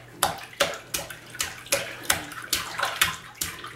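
A baby splashes in bathtub water, slapping it in a steady series of about ten sharp, close splashes roughly every third of a second.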